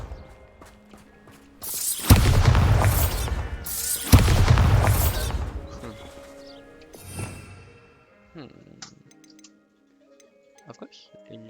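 A Bombarda spell blast in the video game Hogwarts Legacy, two loud booming explosions in quick succession that fade into rumbling debris, followed by quieter ticking game sounds and a brief spoken voice.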